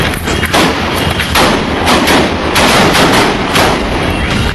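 Three shooters fire outside a hospital, a loud, dense burst of rapid overlapping gunshots that lasts the whole time, close and sharp.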